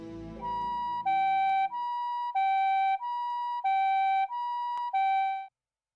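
An ambulance siren in the video game Variable Barricade sounds loud and clear in a steady two-tone high-low wail, about eight alternating notes that stop abruptly, with no voices.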